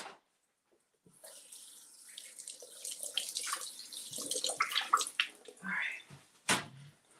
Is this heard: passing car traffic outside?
no